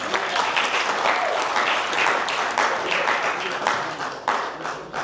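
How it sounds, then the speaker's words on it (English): Audience applause at a Ugandan independence celebration in Sheffield: dense, steady clapping from a sizeable crowd fills the whole stretch, loud and continuous, easing slightly toward the end with faint voices mixed in. "So please give him a very, very nice hand."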